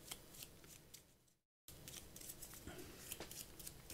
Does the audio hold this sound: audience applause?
no